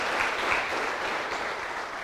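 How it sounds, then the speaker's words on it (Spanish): A church congregation at a Bible class claps loudly and steadily in a dense, continuous wash of applause for the Lord, with no one speaking over it. "¿Quieres darle un fuerte aplauso al Señor?"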